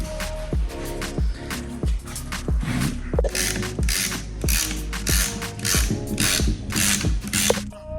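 A ratchet clicks in repeated rapid bursts while screws come out of a B series transmission case, each stroke a sharp close ratcheting rattle in a steady working rhythm.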